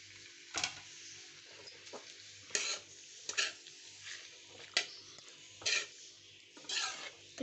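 Chicken for shawarma cooking in hot ghee in a pan, a faint sizzle under a string of sharp, close scrapes and clinks from a utensil stirring at irregular intervals.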